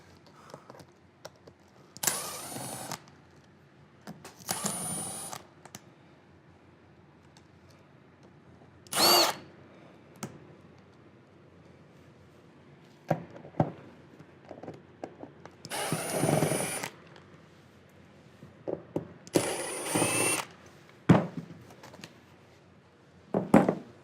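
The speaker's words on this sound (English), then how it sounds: "unscrew that panel there" A power drill whirs in short separate bursts while unscrewing a seat panel on a 2000-2005 Honda S2000, about six spurts of a second or so each, with quiet gaps and light handling noises between.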